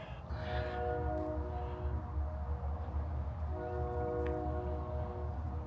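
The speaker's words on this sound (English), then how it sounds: "There's that train again." Train passing through downtown Miami, Arizona, a quiet small copper town, with a sustained horn sounding twice in long tones over a heavy low rumble of rolling rail cars.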